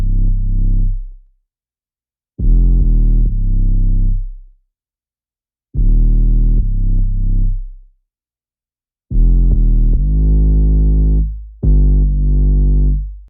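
An 808 bass sidechained to a kick drum: five long, booming sub-bass notes swell and pump in a rhythmic pattern, separated by gaps of silence, loud and alone with no talking.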